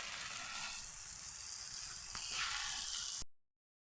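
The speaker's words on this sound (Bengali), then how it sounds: "এই যে সুরমা মাছ ভাজতেছি।" Surma fish fries in a hot pan, making a close, even sizzle that swells slightly near the end before cutting off abruptly, with no talking.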